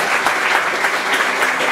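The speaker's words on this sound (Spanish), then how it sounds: "Les pido un aplauso porque ellos se han dispuesto para el Señor" Applause for priests at a church wedding gathering, a dense crowd clapping steadily and loudly for the whole short stretch, with no break.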